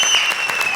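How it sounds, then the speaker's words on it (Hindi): Applause from a comedy show audience, a short dense burst of clapping at steady loudness. "मजा आ गया ठाकुर, इस बात पे दे ताली।"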